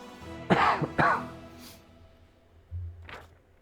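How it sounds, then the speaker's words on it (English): Two sharp coughs in quick succession, close and fairly loud, followed by a softer low throat sound and a faint breathy rasp. "the coughing is still not going away"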